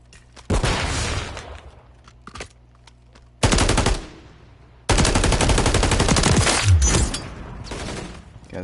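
Call of Duty Modern Warfare 3 gunfire, loud sustained bursts of rapid automatic fire in three long strings separated by brief lulls, close and dominant with no talking.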